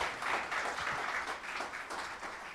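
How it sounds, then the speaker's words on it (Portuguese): Congregation applauding during a church service, steady dense clapping from many people throughout, moderately distant and fairly soft. "Dê um aplauso bem dado para Deus."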